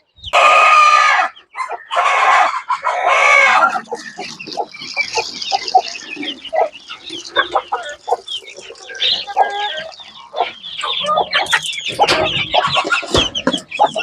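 Native chickens on a poultry farm: a rooster crows loudly and close at the start, then hens cluck and squawk in busy, uneven bursts that keep overlapping to the end.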